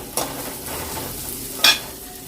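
Carrots and green beans stir-fried in a pan for black kavuni rice noodles, with a steady soft hiss broken by two brief louder scraping clatters of stirring, no voices.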